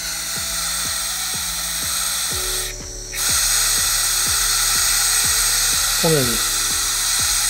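A Drinkmate Magnum Grand soda maker vents gas after carbonating water: a loud, steady hiss runs throughout with a low mechanical whine underneath, briefly dipping midway, while a person talks over it.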